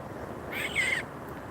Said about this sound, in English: that's a cute little bird